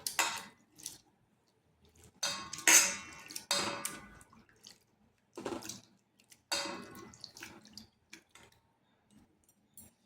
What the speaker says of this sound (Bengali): এরপর চিড়াটাকে খুব ভালোভাবে ধুয়ে নিতে হবে। 3 থেকে 4 বার ভালোভাবে ধুয়ে নেব।